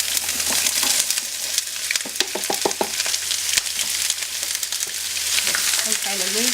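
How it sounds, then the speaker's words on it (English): Onions sizzle and fry steadily in olive oil in a skillet over medium-high heat, with a dense continuous hiss and a few sharper crackles and scrapes as they are moved around. "we're going to dump in our onions"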